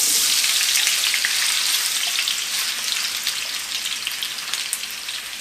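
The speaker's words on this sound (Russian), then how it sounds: "И обжариваем до румяной корочки." Steady, bright sizzling of potatoes frying in hot vegetable oil, close and continuous with a crackly, rain-like texture and no voices.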